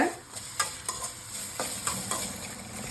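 Ginger sautéing in oil in a pan: a soft, even sizzle broken by several sharp spatula scrapes and stirs at irregular intervals, fairly quiet and close.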